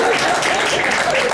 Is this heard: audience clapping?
yes